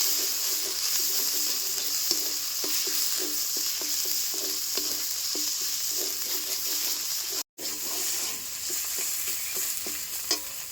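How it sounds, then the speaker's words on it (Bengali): Ground spices with turmeric and cumin powder frying and stirred in a pan for a village-style green chilli meat curry, a steady sizzle under repeated scraping stir strokes, close and continuous with one brief gap. "সমস্ত মশলা আবার ভালো মতো কষায় নেবে"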